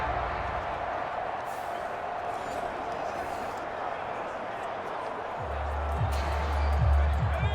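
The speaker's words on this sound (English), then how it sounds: "that might be exactly what they needed to wake up this home crowd" Home stadium crowd in Madden NFL 24 football game cheering, a broad steady roar of fans that swells toward the end with low thumps, under a commentator's talk.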